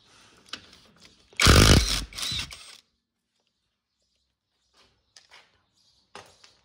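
Top bolt of a rear shock absorber being undone on a 2009 Toyota Hilux Vigo: one loud, close burst of power-tool whirring lasting about a second and a half, then near silence with a few faint clicks.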